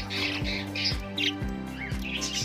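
Budgies and other small birds chirping together in a flight cage, bright overlapping tweets and squawks close by, over a steady low hum.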